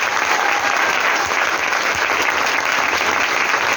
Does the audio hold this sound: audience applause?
yes